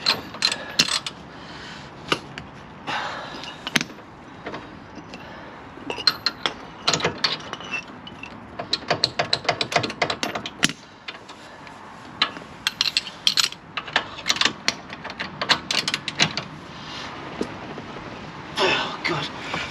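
Ratchet wrench tightening bolts during a repair, heard as rapid clicking pawl bursts in irregular runs, fairly close, with a few brief mutters between.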